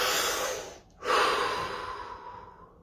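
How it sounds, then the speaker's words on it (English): A single deep breath taken during a guided relaxation exercise, a long airy inhale that breaks off briefly and then flows into a slow, steady exhale, close and fairly loud with no voice over it. "Deep breath."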